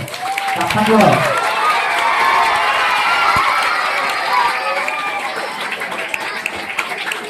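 An audience claps at a school Telugu day celebration, a steady wash of many hands that stays loud throughout, with crowd chatter and children's voices mixed in and a brief voice near the start.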